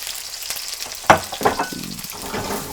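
Onion hits a hot pan and sizzles, with a few sharp crackles and pops over a low background fry, close and fairly loud.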